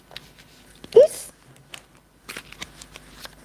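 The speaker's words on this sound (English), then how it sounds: "you see me that I'm shuffling the cards" Tarot cards are shuffled by hand in short riffling bursts, one at the start and a longer flurry near the end, close and crisp over a quiet room with a low hum.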